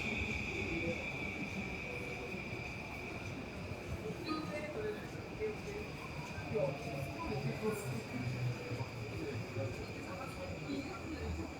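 Inside a Tokyo local train during a night ride, a steady low rumble and rattle of the carriage with a faint constant whine, occasional clunks and muffled voices in the background.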